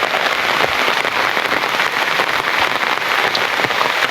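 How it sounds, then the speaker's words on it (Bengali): Heavy rain that has been falling for about five hours pours steadily and loudly, a dense unbroken hiss of drops drumming on surfaces with no voices. "পাঁচটা ঘন্টা ধরে বৃষ্টি হইতেছে"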